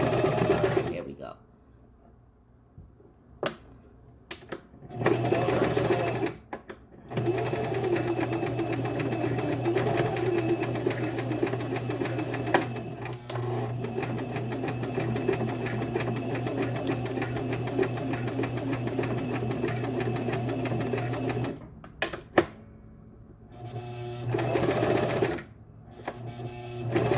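Sewing machine stitching hair tracks onto a wig, running in long steady loud stretches with short pauses between bursts; a voice speaks briefly in the gaps.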